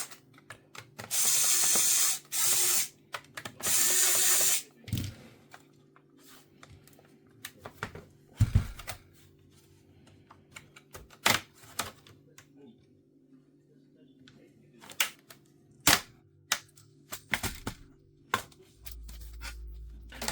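Screws on a Lenovo ThinkPad T450 laptop are undone with a small screwdriver, giving a few bursts of ratcheting clicks followed by scattered light taps and clicks, close by, while a person talks.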